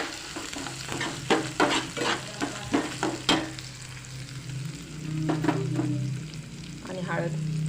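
Halved peanuts and soaked dal frying and being stirred in a pan for Tamil Nadu lemon rice, with a steady sizzle under a quick burst of spatula scrapes and clinks, then a louder swell of frying toward the end.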